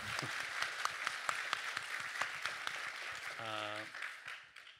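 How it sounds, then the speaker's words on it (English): An audience at a banking conference panel applauds steadily with dense clapping. A brief tonal sound cuts in near the end as the applause fades. "big round of applause"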